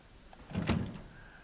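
A locked door in the Resident Evil Village video game rattles once in a short, muffled burst that swells and fades within a second.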